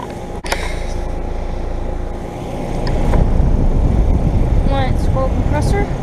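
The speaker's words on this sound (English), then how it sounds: "here I have an American Standard Silver Series heat pump running in heat mode." An American Standard Silver 14 heat pump with a scroll compressor runs in heat mode, a steady mechanical hum with tonal whine that grows louder and rougher partway through, with a few brief higher chirps near the end.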